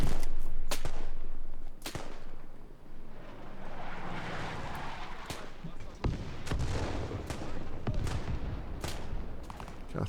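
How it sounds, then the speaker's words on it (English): Bomb explosions and gunfire in Arma 3's Spearhead 1944 World War II campaign during a Luftwaffe air attack: sharp scattered shots over a rumbling blast and crackle, with someone talking at times. "I think the bomb landed on the other side."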